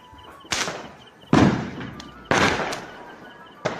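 Sky shot fireworks burst in four loud booms spaced about a second apart during Diwali, each sharp crack followed by a crackling, fizzing tail, with faint background noise between.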